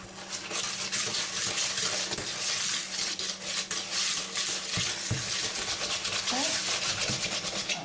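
Lemon poppy seed cake batter, with butter and sugar being creamed until light, mixed in a bowl as a steady rubbing, scraping stir runs throughout at close range with a few brief clinks.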